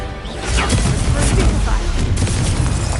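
The Confringo explosive spell cast in the video game Hogwarts Legacy, giving a loud, dense burst of booming crashes that holds at full strength through the moment, with a spoken voice beneath the blasts.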